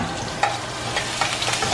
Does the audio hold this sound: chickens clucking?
no